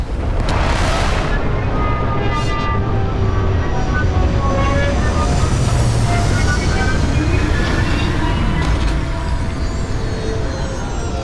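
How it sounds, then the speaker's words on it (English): Spaceship retro thrusters roar steadily through a landing in the video game Starfield, a loud, dense rumble that holds constant with brief hissing bursts, while a voice speaks over it. "Landing struts primed. Retros firing."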